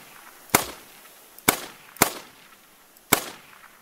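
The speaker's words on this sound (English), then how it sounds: "Still shooting at that sucker." Four sharp, loud rifle gunshots from The Hunter: Call of the Wild hunting game, spaced irregularly, each a crisp crack with a short fading tail over quiet ambience.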